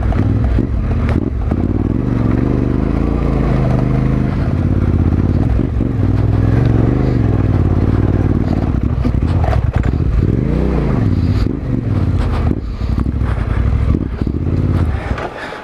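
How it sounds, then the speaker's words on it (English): A 2020 Yamaha Tenere 700 churns through deep gravel or sand in a creek bed, its engine droning loud and near throughout with shifting revs, overlaid by crunching, clattering stones and wind rumble. "Some deep gravel or sand right here."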